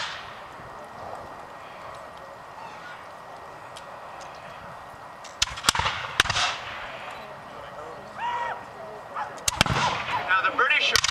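Scattered 18th-century .75 caliber flintlock musket shots at a French and Indian War battle reenactment outdoors, several sharp cracks in uneven bursts after a quieter stretch, with crowd murmur and talk underneath.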